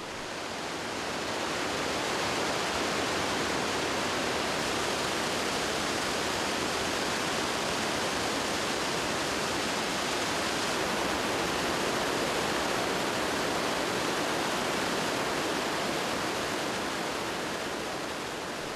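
Iguazu Falls waterfall roars as a dense, continuous broadband wash of crashing water, loud and unbroken throughout with no voices.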